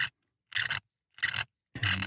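A hand tool rasps away the background on an ivory 1911 pistol grip being carved, in three short scraping strokes separated by brief silences, close and crisp.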